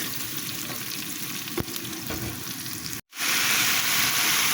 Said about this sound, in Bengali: সামান্য একটু পেঁয়াজ কুচি দিয়ে এটাকে একটু ভেজে নিব